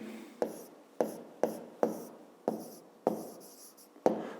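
Pen or pencil writing by hand, working through a 5th-grade maths exercise: seven distinct strokes in a steady rhythm, each a short scratch that trails off, close and fairly quiet with no voices.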